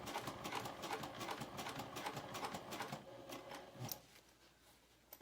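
A sewing machine runs steadily for about four seconds, top stitching slowly along a zipper pouch seam, then stops and leaves near quiet with a faint click at the end.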